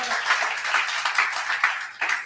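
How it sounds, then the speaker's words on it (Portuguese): Congregation at a church service applauding for Jesus, quick rhythmic clapping from many hands, close and lively, with pulsing bursts over about two seconds and no speech. "Dê um aplauso a Jesus, por favor."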